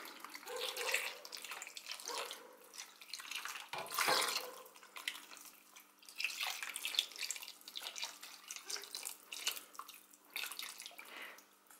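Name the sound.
water poured into pan of stuffed peppers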